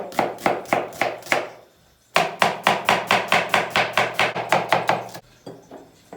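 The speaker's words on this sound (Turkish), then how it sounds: "bu kızarırken sosu için olan sebzesini doğrayacağım" Rapid, even knife chops through an onion on a cutting board, two runs of sharp rhythmic thuds with a short pause between, close and crisp.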